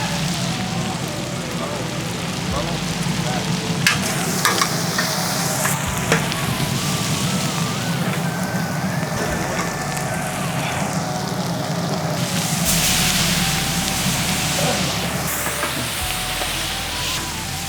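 Potatoes and turmeric frying in a pan for a prawn and radish curry, a continuous sizzle and crackle with occasional clatters of utensils, heard under a person talking.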